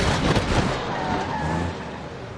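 Commercial vehicle in the BeamNG.drive game crashes during an acceleration test and loses a wheel, giving a loud harsh burst of crunching noise that eases into rolling road noise and a thin engine whine.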